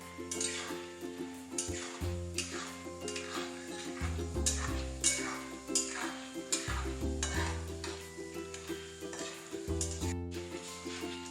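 Chana dal deep-fries in hot oil for thin poha chivda, a steady close sizzle and bubbling stirred now and then with light scraping, while background music plays throughout.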